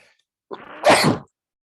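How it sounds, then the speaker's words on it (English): A single sneeze from a lecturer giving a talk on environmental limits: a short wheezy intake followed by a sharp, loud burst, close and alone, with no speech around it. "have to sneeze"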